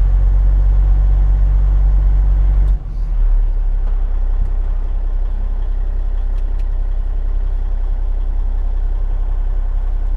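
A dump truck engine idles on a snowy road with a heavy, loud low drone. Its tone drops after a brief dip as the gearing changes, then it carries on rumbling steadily.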